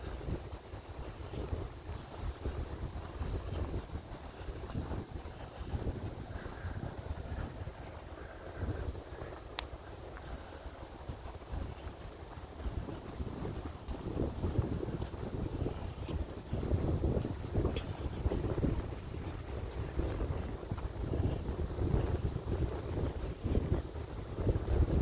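Steady gusty wind buffets the microphone on a nature trail walk through a preserve in Evendale, Ohio, a continuous low rumble that strengthens in the second half, with no voices.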